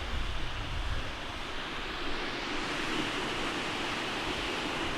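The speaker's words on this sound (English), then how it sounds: "rain brings waterfalls, very temporary waterfalls" Continuous rushing roar of a temporary waterfall formed by thunderstorm rain in Zion, steady and broadband, with no voices.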